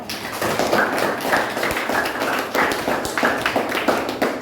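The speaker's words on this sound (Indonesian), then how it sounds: "beri tepuk tangan untuk Bang Yana." Classroom applause for Bang Yana at the close of a lesson on persuasive text, a steady patter of hand claps from a small group, fairly close and continuous, with no voices over it.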